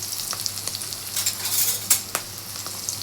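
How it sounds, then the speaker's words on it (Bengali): Chopped onion sizzles in hot oil in a wok with cinnamon, cloves and bay leaves, a steady close crackle broken by a few sharp spatters and stirring scrapes. "আমার পেঁয়াজ ভাজা ভাজা হয়ে গেছে"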